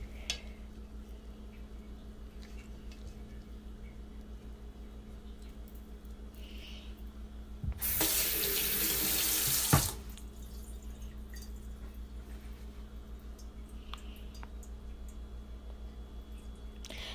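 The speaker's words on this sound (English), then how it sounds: "Just going to add a little bit of water." A short gush of water from a tap, about two seconds, pours into pre-cooked food while preparing kittley with bitter balls, loud and close between otherwise quiet kitchen background.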